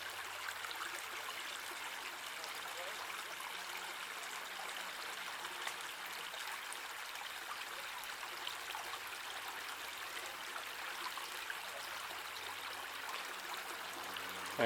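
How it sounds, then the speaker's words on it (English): The little River Tarrant at Tarrant Monkton runs in a soft, steady, continuous rush of shallow flowing water, faint and unbroken, with no voices. "And here's the little River Tarrant at Tarrant, Monkton."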